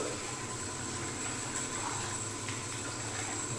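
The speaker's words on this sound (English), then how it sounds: "warm the brush up with warm water," Warm water runs steadily over a shaving brush in a quiet room, a soft continuous hiss and trickle heard close up with no talking.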